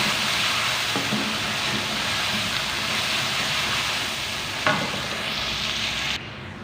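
Chopped tomatoes sizzle and fry steadily in a pan with salt. The hiss is continuous and close, broken by a couple of soft stirring clatters, and the sound cuts off near the end.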